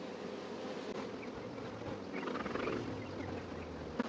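Honey bees swarm around an open beehive with a dense, continuous close buzz, steady and loud throughout with no voices.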